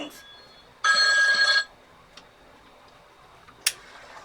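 A phone rings once in a room during resin art work, a bright electronic trill lasting under a second, followed by soft ticking clicks and a sharp click near the end.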